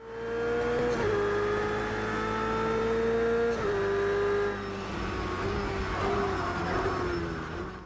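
A racing car engine in the video game Project Cars 2 revs and shifts gears repeatedly, pitch climbing and dropping in steady surges, loud and close with no voices.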